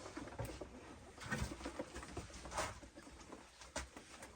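Pigeons coo softly and faintly in a coop, low and intermittent, with light scratchy patter and occasional brief clicks.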